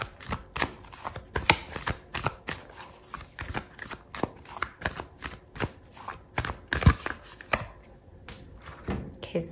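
Oracle cards shuffled by hand for a Gemini love tarot reading, a busy run of quick papery riffles and soft slaps repeating steadily for several seconds, close and fairly loud with no talking.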